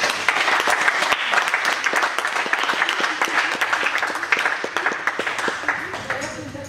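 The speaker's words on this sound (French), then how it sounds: "On les applaudit." An audience at a martial arts club's season-closing ceremony applauds steadily for several seconds, a dense burst of many hands clapping close by, with some voices mixed in and the clapping thinning toward the end.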